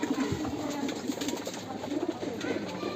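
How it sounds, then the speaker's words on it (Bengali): Giribaz and racer pigeons at a pigeon loft coo in a steady low murmur, several birds overlapping continuously at close range with no talk. "তারপর দেখেন এখানে একটা গিরিবাজের বাচ্চা"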